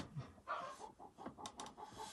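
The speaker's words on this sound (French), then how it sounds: "Ah, le poule qui se réveille." A hen clucking as it wakes up, a few quiet, short, throaty clucks and soft calls in an irregular series, faint and fairly close, with no talking.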